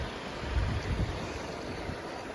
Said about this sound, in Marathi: हे पाणी असं तिकडे वाहत वाहत जातं मामाच्या घराकडे